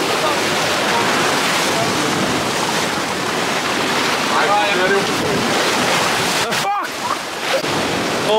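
Sea surf washing in below a cliff, a continuous loud rushing hiss of breaking waves with wind noise, brief gusty dropouts near the end and faint voices in the background.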